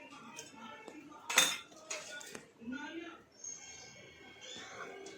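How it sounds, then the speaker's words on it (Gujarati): A spatula stirs soya chunk veg pulao with cashews and raisins in a large pot, giving scraping clinks and one sharp metallic knock amid soft kitchen clatter, while a voice talks over it. "હવે તેને આપણે બધું મિક્સ કરી લઈશું. આ રીતે તબેથાની મદદથી."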